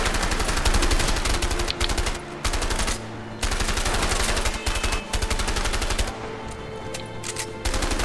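Rapid automatic gunfire in the video game A Way Out, dense bursts of loud shots fired in quick succession with brief pauses between volleys.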